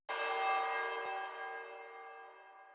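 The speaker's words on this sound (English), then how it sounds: "the preset is called Quasimodo, and it's pretty much like a church bell" A synthesized church bell from an FL Studio preset called Quasimodo strikes once, ringing out with a bright metallic tone that slowly decays, alone and clear.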